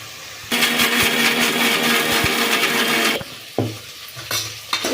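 A mixer grinder grinding a spicy masala paste runs with a loud, steady whir for about three seconds and then stops, followed by a few clatters and knocks of the jar.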